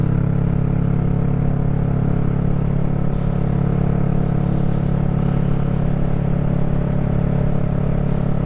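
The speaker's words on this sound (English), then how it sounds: "We're gonna follow our friend up here on his gorgeous Triumph Sprint." Triumph Sprint motorcycle engine on a road ride, a loud, steady drone with constant rumble and faint rattling, heard close and continuously with no talking.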